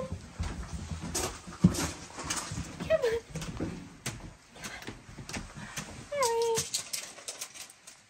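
A new puppy outdoors at a cottage on the Isle of Skye in the Scottish Highlands whimpers in two brief, faint high whines several seconds apart, amid rustling, footsteps and outdoor noise.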